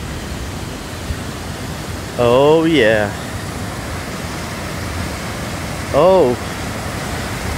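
Steady rushing water hisses in the background, like a waterfall or fast stream in the Lake District, while a person briefly exclaims a couple of times over it.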